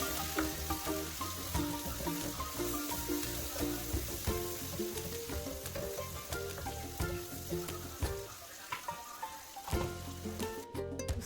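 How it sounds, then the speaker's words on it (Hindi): Onions, tomatoes and green chillies frying in a pan, a continuous close sizzle with occasional stirring scrapes, steady and unbroken before briefly quieting near the end. "तो बस ये प्याज इनको ब्राउन करके इसके अंदर भी मैंने टमाटर और हरी मिर्चें डाल"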